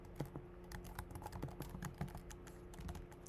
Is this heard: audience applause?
no